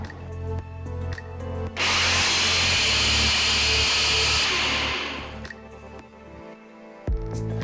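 A kitchen mixer grinder grinds a sesame mixture with grated jaggery, a loud whirring roar that starts abruptly, runs for about four seconds, then winds down, framed by softer mechanical knocks.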